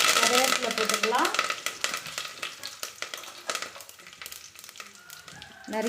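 Hot oil crackles and sizzles as curry leaves and fennel seeds drop into a pan, loud at first and then settling into a steady, softer spitting with a few stirring clatters.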